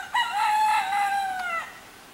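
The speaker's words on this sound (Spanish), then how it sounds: "Escucha, por aquí sonó el gallo" A rooster on a farm crows once among coffee plants, a single drawn-out call of about a second and a half, fairly close and clear with no other sound.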